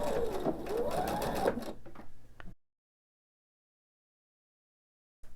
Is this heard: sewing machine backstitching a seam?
yes